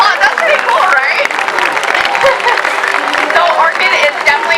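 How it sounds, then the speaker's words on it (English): Audience at a SeaWorld San Diego orca show claps and cheers in a sustained round of applause, dense crackling clapping that stays loud throughout, with crowd noise and a voice over it. "let's give her another big round of applause"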